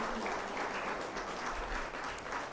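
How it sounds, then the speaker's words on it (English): Audience applause at a Caribbean Broadcasting Union general assembly, a steady, moderately loud wash of clapping from a seated crowd that holds evenly for a couple of seconds with no talk over it. "let's get one more round of applause for Dr."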